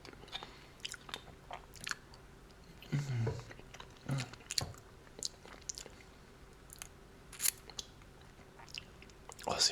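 Close-miked chewing of pork in an ASMR eating session, with moist bites, crunches and squishy mouth sounds in an irregular rhythm, and soft speech now and then between mouthfuls.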